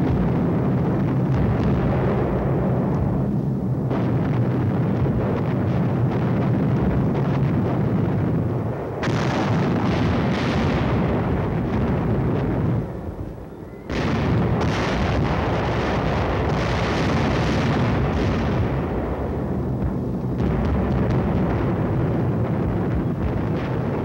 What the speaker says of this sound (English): In 4 hours, 500 tons of bombs were dropped to level the abbey.